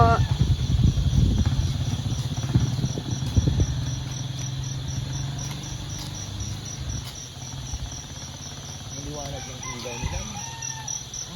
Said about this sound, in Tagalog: ang ingay ng mga kuliglig.